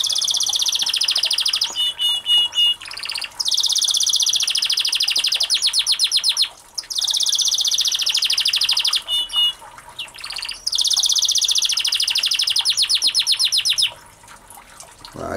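Caged birds in an outdoor aviary sing loud, bright warbling phrases with rapid trills in long bursts, broken by brief pauses.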